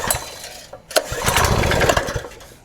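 A gasoline engine on a pressure washer is pulled and sputters into a rough, loud run, close by, after a brief quiet gap.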